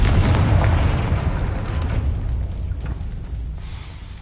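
A Confringo fire spell bursts in Hogwarts Legacy with a loud booming explosion that rolls and fades over a few seconds, heard alone without speech.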